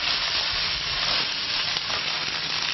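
Beef fillet sears in an oiled pan, a steady, dense sizzle and crackle of hot fat that holds loud and close for the whole stretch, with no voices over it.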